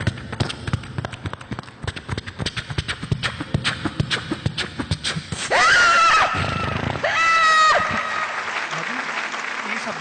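A voice mimics a horse on stage, crowd applause and clapping first, then two loud, drawn-out whinnies with rising and falling pitch, followed by faint clip-clop sounds.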